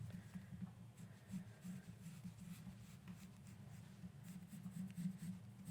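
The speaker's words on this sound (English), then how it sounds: "And just trace it with a pencil." A pencil traces a sewing pattern onto the back side of fabric, a soft, steady scratching that runs continuously, quiet and close, with no voices over it.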